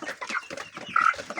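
Chickens on a rooftop cluck in quick, close, overlapping bursts, with one brief higher squawk in the middle and no voices.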